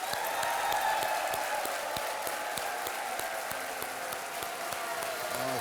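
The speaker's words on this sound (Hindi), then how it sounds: "मैं चाहता हूं कि आप सब लोग तालियों के साथ गड़गड़ाती हुई स्वागत किया जाए" Studio audience applause welcoming a guest onto a Hindi quiz show set, steady dense clapping throughout, moderately loud and continuous with no voices over it.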